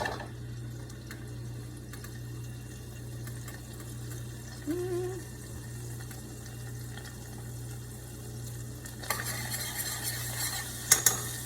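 Melted butter stirred in a pan for gluten-free garlic bread, a steady low sizzle and faint spoon scraping with a brief clink near the end, no talking.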